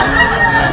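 A rooster, an opener bull stag gamefowl, crows at an outdoor gamefowl market on muddy ground after rain, the call sustained and close over background chatter from sellers and buyers.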